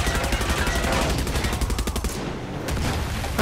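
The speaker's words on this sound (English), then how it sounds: "That's a mortar." Mortar and heavy gunfire in the Far Cry 6 video game, a dense, loud barrage of rapid repeating shots with a booming impact, continuous and close.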